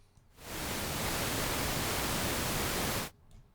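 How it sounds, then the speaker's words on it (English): A steady burst of pink noise from a VCV Rack synthesizer, a full, even hiss that begins abruptly, holds for under three seconds at constant loudness, then stops sharply. "let's just listen to pink noise"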